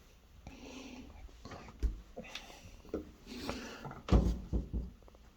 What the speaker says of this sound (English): I guess those drawers don't open.